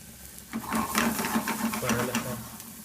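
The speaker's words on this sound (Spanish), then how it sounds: "voy a proceder a sudar la cebolla" Onion sweating in a pan, a soft continuous sizzle with rhythmic scraping and stirring strokes that swell and fade in quick succession, close and moderately loud.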